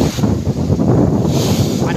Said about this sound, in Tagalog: Pananalasa ng hanging habagat